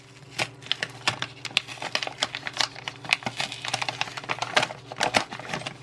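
Dense crinkling and tearing of a paper envelope being opened by hand, with quick crackly bursts and rustles close up and fairly loud, no talking.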